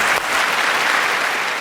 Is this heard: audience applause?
yes